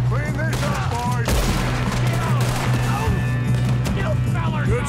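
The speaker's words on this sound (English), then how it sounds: "Good shooting, kid!" Gunfire in Red Dead Redemption 2 crackles through a busy combat scene, with a few sharper bursts standing out over a steady game soundtrack and ambient din.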